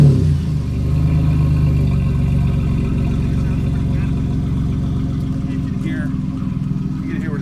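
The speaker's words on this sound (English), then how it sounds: "let me start it up, and just so you can hear what it sounds like" A 2000 Camaro engine fitted with fake dual exhaust turns over and settles into a steady, deep idle. It sits loud and close, with a constant low rumble through the whole stretch and no talk.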